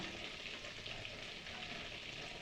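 Whole garam masala spices, a piece of cinnamon bark, four or five medium cardamom pods and three or four cloves, frying in hot oil for a chicken and potato curry, a steady close sizzle throughout with no talk.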